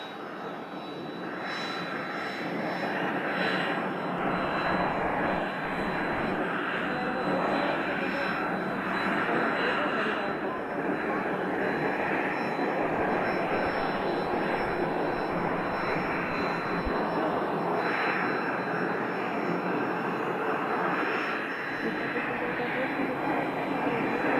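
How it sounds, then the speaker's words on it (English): Airplane jet engines spool up and roar steadily in the distance at Scottsdale, a broad continuous rumble that holds for the whole stretch. "the plane that's started up its engines is one of these two over here"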